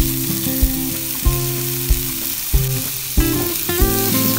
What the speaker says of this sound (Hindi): इसको थोड़ा सा फ्राई करेंगे।